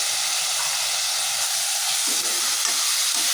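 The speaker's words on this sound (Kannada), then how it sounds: "ಚೆನ್ನಾಗಿ ನೀಟಾಗಿ ಸಾಫ್ಟ್ ಆಗೋವರೆಗೂ ಫ್ರೈ ಮಾಡ್ಕೊಳ್ಳಿ ಟೊಮೊಟೊನ" Tomatoes with turmeric fry in a pan for home-style chicken biryani, giving a steady, loud, close sizzle and hiss that runs unbroken, with faint low stirring sounds beneath.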